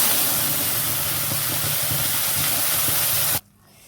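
Spice paste hits hot oil with whole garam masala, a bay leaf and cracked cardamom for potol chingri, a Bengali pointed-gourd and prawn curry; a loud, steady sizzling hiss fills the air, then suddenly drops away near the end.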